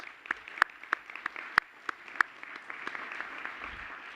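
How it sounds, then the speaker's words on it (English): Applause at a school board meeting, a thin, scattered patter of clapping from a small crowd with a few sharp, louder claps standing out near the start, fading slightly toward the end. "Yep, a big round of applause."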